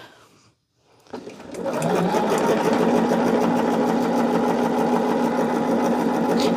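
A sewing machine stitches charm-pack quilt strips, starting after a short silence and then running in a loud, continuous close whir to the end.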